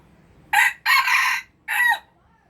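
A rooster crows once, loud and close, in three distinct bursts: a short opening note, a long drawn-out middle, and a falling final note, against a quiet background.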